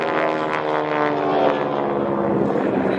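A vintage North American propeller aircraft from 1935 with a two-blade prop, restored to World War II markings, flying at an air show; a loud, steady droning engine with a buzzing tone that sweeps slightly as it passes.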